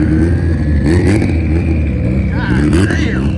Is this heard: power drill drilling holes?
no